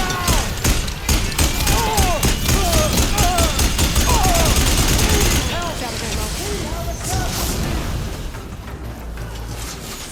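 Gunfire from weapons in the Horizon Forbidden West video game: loud, rapid bursts of shots and booming impacts over a constant battle din, with voices calling out and shouting over the fighting.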